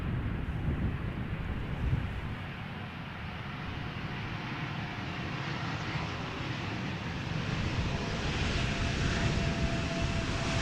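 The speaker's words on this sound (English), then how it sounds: "This is KLM flight 1198, arriving from Stavanger," A KLM Embraer 175 jet arriving at Schiphol Airport, a steady broad engine roar with wind buffeting the microphone, slowly rising in pitch as the aircraft draws closer.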